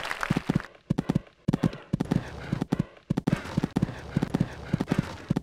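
Horse hooves gallop in Equestriad 2001, a show-jumping video game, with a quick, steady clip-clop rhythm broken by brief gaps, close and fairly loud.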